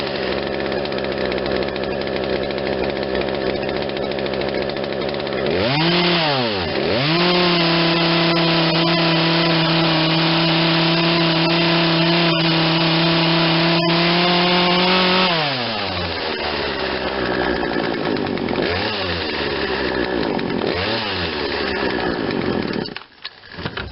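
A Poulan Wild Thing 40cc two-stroke chainsaw with an 18-inch bar runs loud and close after a carburetor replacement and tuning, lean and starving at idle. It revs up, holds a steady high whine, then drops back to a rough idle, with no talk.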